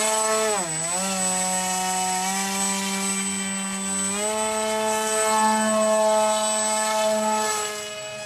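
A 120% size RC Powers F-22v2 model jet flies with a steady, loud whining motor tone that dips in pitch early, then holds and rises gradually, a continuous drone with no speech.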